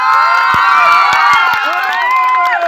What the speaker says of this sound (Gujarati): જોરદાર તાળી થઈ જાય ગેટ માટે.